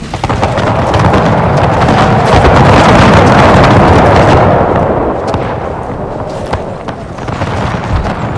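Musket volley fire from massed infantry in an Empire: Total War mod battle, a loud rolling crackle of many shots merging into a thunderous rumble that swells, then fades into scattered pops.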